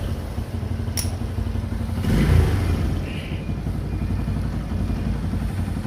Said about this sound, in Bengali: এই যে ঘটর ঘটর করে নড়তিছে, সবগুলা বেয়ারিংয়ে গেছে গাড়িটার।